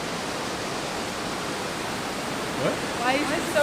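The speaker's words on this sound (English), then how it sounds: "a natural rock bridge over this crystal blue river" A crystal blue glacial river rushes beneath a natural rock bridge in the Rocky Mountains, a steady loud broadband roar of flowing water, with faint voices creeping in near the end.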